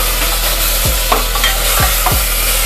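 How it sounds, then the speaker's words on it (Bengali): Chicken sautéing in a pan for a stew, a steady close sizzle of frying with a few distinct scraping strokes of a spoon stirring through it, no voices. "একটু হালকা কষিয়ে নেব আমি"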